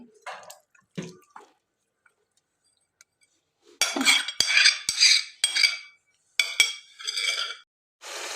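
Chicken goes into a karahi with about two spoons of oil, bringing a run of loud metallic clatters and scraping bursts from the pan, separated by short quiet gaps, close and without speech.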